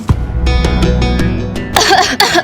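A person coughs a couple of times, short harsh bursts close to the microphone near the end, following a brief vocal sound.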